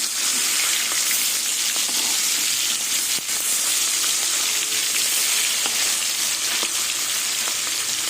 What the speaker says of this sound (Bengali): মাছ কিন্তু কড়া ভাজবো না দেখুন কড়াইতে দিয়েছি আর উল্টিয়ে দিলাম